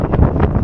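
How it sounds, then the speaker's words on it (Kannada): Strong wind gusting across the microphone at a large temple tower, a loud steady broadband rush with no voices. "ಜಬರ್ದಸ್ತ್ ಗಾಳಿ ಬಿಟ್ಟದ"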